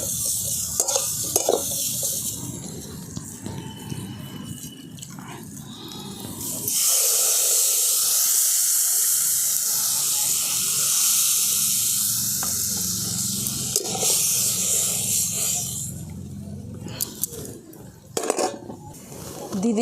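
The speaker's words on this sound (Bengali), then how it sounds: "এরপর আমি জল ঢেলে দেবো।" Water poured into a pan of lightly fried cauliflower and other vegetables bursts into a loud, steady sizzle and hiss that gradually settles, with some stirring and utensil clatter close by.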